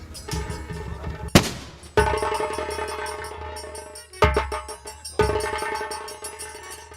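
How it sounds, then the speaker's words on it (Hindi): Gunfire in bursts, several sharp, loud cracks with dense rapid repeats, separated by brief gaps and set against a busy, music-like background. "कहाँ से फायरिंग हो रही?"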